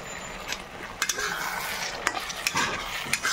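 Duck egg curry masala with tomato sauce sautéing in a pan, a steady close sizzle with sharp scraping stirs of a spatula at irregular intervals, no voices.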